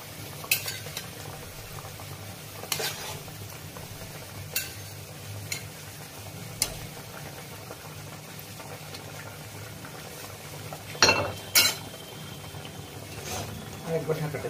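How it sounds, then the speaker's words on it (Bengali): Fish pieces go into boiling mustard gravy in a pan, giving a low simmering bubble with occasional splashes and clinks of utensils against the pot, with quiet background hum. "ঝোলটা ফুটে গেছে। এবার মাছগুলো এক এক করে দিয়ে দেবো।"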